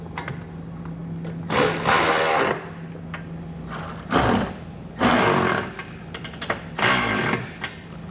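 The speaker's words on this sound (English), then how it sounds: "we're going to use an 11/16" socket on these two side holes here, and then a 9/16" socket on that U-bolt" A power tool with a socket drives bolts while a Curt trailer hitch is installed on a 2018 Honda Fit, whirring loudly in four close bursts of about a second each, with quiet pauses between them.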